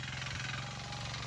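Tractor engine ploughing a field, heard as a low steady mechanical drone with a faint hum, fairly quiet and continuous with no voices.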